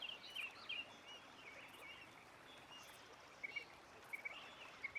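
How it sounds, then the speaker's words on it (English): Small birds sing outdoors, faint and distant, their short chirps coming in scattered bursts over a soft, steady background hiss. "Like the birds we hear right now, what if they're just crying?"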